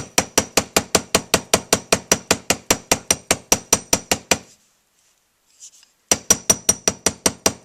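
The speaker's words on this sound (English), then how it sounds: "I like to hammer mine for texture and for hardness." Sharp metallic hammer strikes on wire ring out in a quick, even rhythm, stop for a brief pause, then resume at the same steady pace, close and clear.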